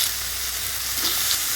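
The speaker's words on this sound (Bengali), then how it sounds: "এখন আমি আলুটাকে দিয়ে দিচ্ছি" Potatoes coated in salt and turmeric frying in a pan with chillies for masala aloo bhaja, a close, continuous hissing sizzle with no talk.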